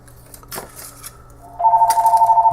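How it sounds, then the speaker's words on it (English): A telephone starts ringing partway through with a steady pulsing electronic tone, loud and close, after a stretch of clinking and rustling on a workbench where small amplifier modules are being handled. "There's the phone. I'm going to let that ring because I just don't care."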